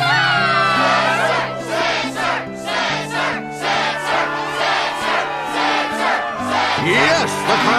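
Game crowd cheering in a Kingdom Hearts 2 struggle arena in Twilight Town, a dense roar of voices rising and falling in pulses over steady background music, loud and continuous throughout.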